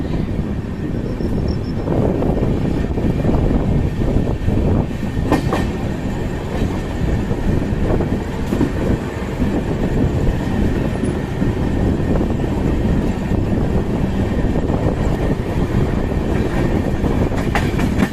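An express train runs from Patna toward Raxaul via Barauni, heard from the open carriage door: a loud, continuous rumble with rhythmic clickety-clack of wheels on rail joints and rushing wind.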